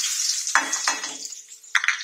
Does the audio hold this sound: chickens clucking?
no